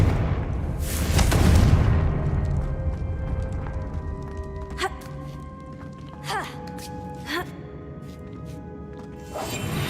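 Confringo fire spell exploding in Hogwarts Legacy, a single loud burst near the start that decays into a rumbling tail, followed by faint tonal effects and sparse clicks.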